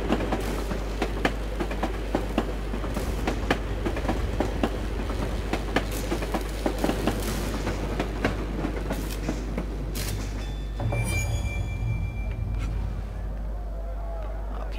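A tram rolls along rails in Assassin's Creed Chronicles Russia, producing a steady rumbling run with rhythmic clicking. Near the end the tone shifts and thin, high ringing notes appear.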